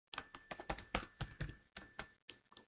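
Rapid keystrokes on a computer keyboard while entering text, a quick irregular run of close, crisp clicks with short pauses between bursts.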